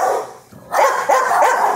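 A dog barks and yips at an animal shelter in Olathe. Loud, close barks come in a quick cluster, with a brief dip in between.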